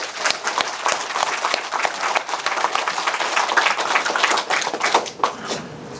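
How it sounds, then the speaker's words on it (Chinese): A seated audience of teachers at a lecture bursts into applause, many hands clapping in a dense, lively patter that holds steady for several seconds before thinning out. "我们给自己来一次掌声"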